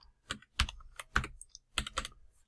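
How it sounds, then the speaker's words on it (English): Close, crisp typing on a computer keyboard, a handful of distinct key clicks in an uneven rhythm against near silence. "You have to just type it in and hit enter"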